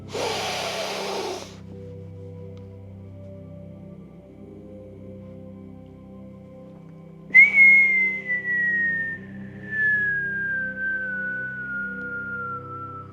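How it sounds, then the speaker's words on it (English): A brief breathy inhale, a pause, then a long steady whistled exhale that slowly glides downward in pitch over about six seconds, over faint background hum. "we're going to exhale with a long whistle, which stimulates your vagus nerve"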